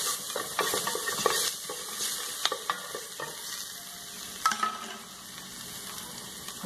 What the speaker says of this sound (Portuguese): Aí a gente vai dar uma fritada nesse alho aqui.